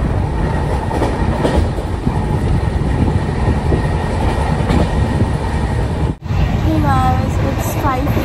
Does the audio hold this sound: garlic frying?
no